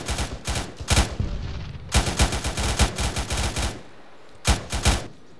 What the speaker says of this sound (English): We got friendlies putting rounds in that tower